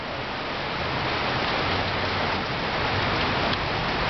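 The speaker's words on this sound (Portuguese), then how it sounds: "chovendo forte na Vila Regina" Heavy rain pours down steadily in Vila Regina, Itaquera, São Paulo, during a thunderstorm, a loud, dense and unbroken hiss of falling water with no voices.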